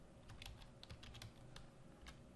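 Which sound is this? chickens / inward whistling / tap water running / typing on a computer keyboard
typing on a computer keyboard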